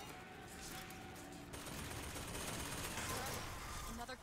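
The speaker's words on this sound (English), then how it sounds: "Stop shooting at me!" Gunfire in the BioShock Infinite video game, a rapid, fairly quiet fusillade of shots rattling under a busy game soundscape, picking up and growing denser partway through.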